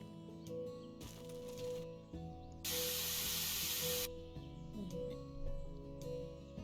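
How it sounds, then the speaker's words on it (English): A garden hose sprays water in the House Flipper video game: one steady hissing burst lasting about a second and a half, set between softer game sounds and faint background tones. "And then you use your hose."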